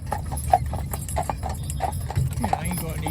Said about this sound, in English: he's a stallion horse, lovely big stallion horse, moves nice and free as well for a big horse